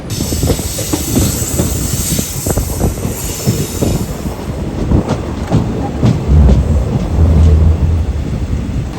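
A passenger train runs at around 95 to 100 km/h between Kottayam and Alappuzha in Kerala. Loud, close rumbling and wheel noise fill the recording, with rhythmic clickety-clack, squealing wheels and hissing.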